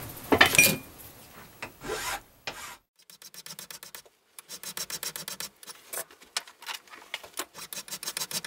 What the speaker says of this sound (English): Tape off and clean up this other edge.